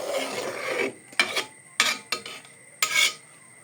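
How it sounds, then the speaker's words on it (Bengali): Raw rice stirred in a cooking pot, a run of scraping, rasping strokes: a longer rub at first, then four short separate scrapes with quiet gaps between, close and fairly soft. "চালটা দিয়ে ভালো মতো একটু নাড়াচাড়া করে নেবেন।"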